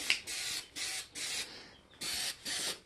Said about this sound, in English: So I'm just spraying this on here